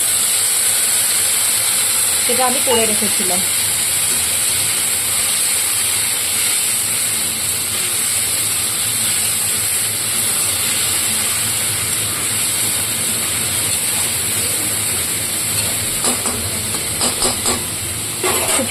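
Garam masala paste sizzles in a hot pan while chicken is being cooked, giving a steady, even hiss with faint stirring clatter and a brief voice speaking early on.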